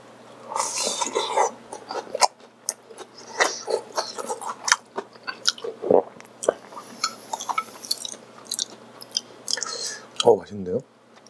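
Someone eats Sinjeon tteokbokki with deep-fried snacks such as dumplings, fish cake, squid and rolled fritters, giving close, crisp bites and wet chewing in irregular bursts, with soft murmured talk between mouthfuls.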